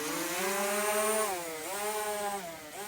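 A DJI Mavic Mini drone with a damaged, flexing arm whines steadily nearby, its rotor pitch wavering and dipping as it struggles to hold stable flight, with no voices.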